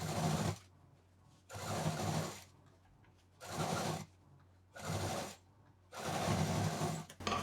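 A sewing machine stitches piping onto a tote bag in five separate runs of steady, even whirring, each lasting about a second, with quiet pauses between them and no talking.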